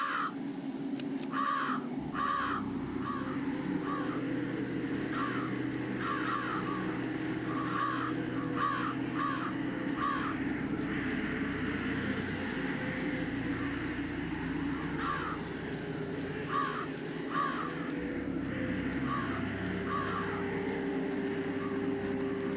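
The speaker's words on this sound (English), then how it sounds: "Yeah, I don't think crows are night birds." Crows caw at night in the video game Jenny LeClue, repeated harsh calls in short bursts of two or three recurring steadily over a low ambient rumble, moderately close and clear throughout.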